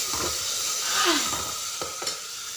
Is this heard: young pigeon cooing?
no